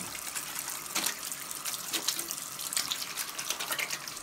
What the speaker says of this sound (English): Wash them really, really good, right?